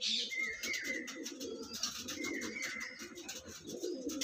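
Young male Madara breed pigeon cooing in a loft, repeated throaty coos near and moderately loud, with some chirps from other birds around and no talking.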